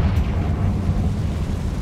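A Confringo spell explodes in the video game Hogwarts Legacy, a loud, dense, rumbling blast that fills the short moment with no pause.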